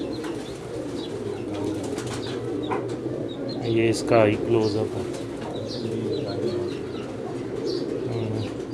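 Teddy pigeons coo softly over a steady low hum of many birds, with occasional chirps, while someone speaks up close over them.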